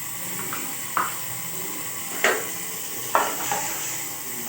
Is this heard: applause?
no